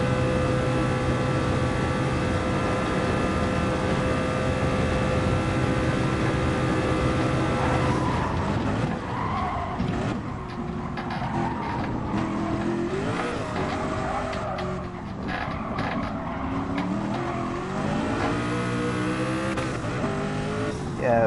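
A race car in Gran Turismo Sport laps the Nürburgring in a time trial, its engine droning at a steady high pitch, then shifting, braking and revving through corners with squealing tires and rising and falling pitch.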